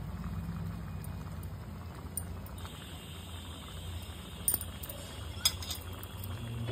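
Pot of lentils with bottle gourd simmering on a stove, giving a steady soft bubbling texture with low rumble and a couple of brief small pops, moderately quiet throughout.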